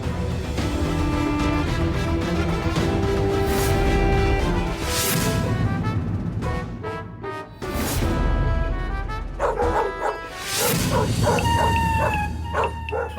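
Dogs bark in a scene from a Marathi TV serial, with several loud bursts heard over a dense background of music.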